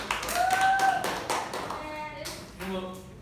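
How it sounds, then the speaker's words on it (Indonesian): Classroom applause as students clap their hands together in a short, dense burst lasting a few seconds, with voices talking over it and the clapping fading toward the end. "tepuk tangan untuk temannya"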